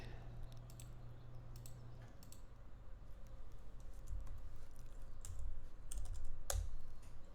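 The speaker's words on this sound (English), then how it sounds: "I'm typing and trying to think while I'm talking" Continuous typing on a computer keyboard, close and steady, with clustered clicks and a few louder key strikes toward the end while playing Dragon Age 2.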